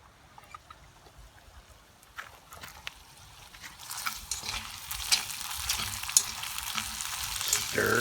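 Bacon sizzles in a Dutch oven over coals, a soft steady crackle that grows louder and busier partway through, with small scattered pops and no talking.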